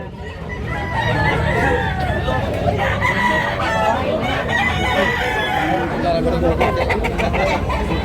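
Roosters crow repeatedly at a gamefowl market in Tabunok, Cebu, loud and close, with clucking and a babble of people talking underneath.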